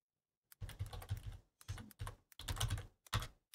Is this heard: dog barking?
no